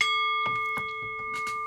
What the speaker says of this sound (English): By the sound of the bell,